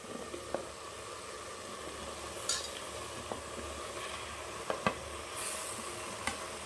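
Quiet, steady sizzle of mushrooms cooking in a pan, with a few soft stirring scrapes and clicks scattered throughout.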